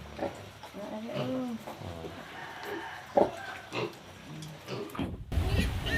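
A sow and newborn piglets grunt and squeal in a busy mix of low snorts and higher piglet squeaks, fairly quiet, ending with a sudden loud rustling clatter.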